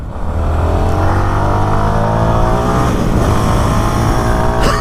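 A Keeway K300N motorcycle runs at full speed, its engine droning loud and steady with a sustained high-pitched whine and strong wind rush throughout, close to the rider.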